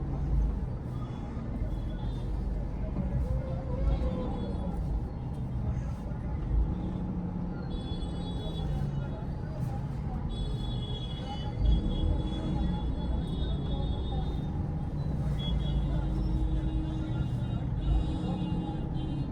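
Heavy traffic rumbles through a crowded market street, with a continuous low engine drone from nearby cars and vehicles and scattered higher horn-like tones layered over the noise.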